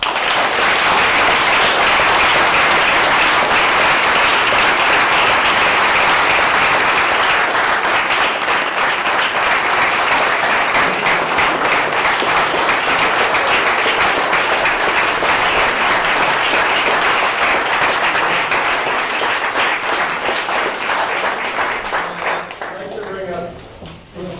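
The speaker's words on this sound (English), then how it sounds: "Let's give a huge applause." School audience at a Rotary Club Veterans Day event giving long, loud, sustained applause, a thick continuous roar of many hands clapping close by, with voices mixed in, tapering off near the end.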